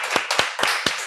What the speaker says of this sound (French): Les gars, applaudissez pour mes frères, s'il vous plaît.